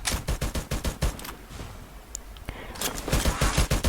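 Rapid bursts of automatic gunfire from the mobile shooter game Free Fire, close and loud, a quick volley, a brief lull with a single shot, then another sustained burst.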